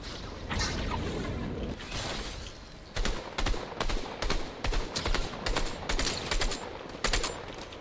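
Rapid bursts of gunfire from Fortnite zero build gameplay, a string of sharp repeated shots in quick clusters after a brief whoosh, loud and close.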